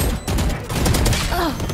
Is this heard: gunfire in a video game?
yes